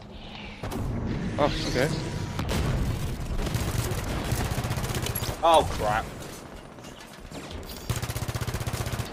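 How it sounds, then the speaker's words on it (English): Explosions and sniper gunfire in the Halo 5: Guardians video game, with booming blasts and sharp shots scattered through the clip under a player's live chatter. "I just hear nothing but explosions and snipers and shit."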